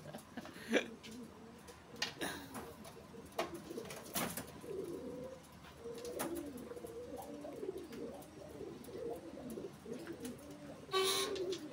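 Caged doves at a bird breeder's aviary coo in repeated low, soft phrases throughout, with occasional clatter and faint background voices.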